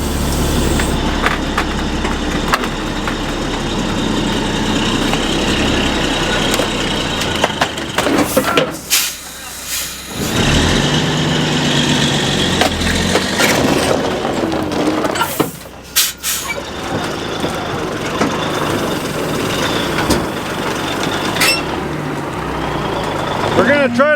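A semi truck's diesel engine idles and strains to move while stuck and being steered straight to climb out over gravel and boards, a loud steady rumble with brief dips, and people talking throughout.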